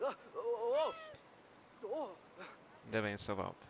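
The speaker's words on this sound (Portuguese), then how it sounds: "Olha um gatinho." Kitten meows in the video game Brothers: A Tale of Two Sons, a few short rising cries heard between and under people talking.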